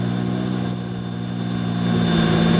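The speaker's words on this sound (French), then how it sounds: "Guillaume Chauvin au volant d'un tracteur" A pulling tractor driven by Guillaume Chauvin roars at the Bernay tractor pulling event. The loud, steady engine drone holds its pitch and grows a little stronger toward the end.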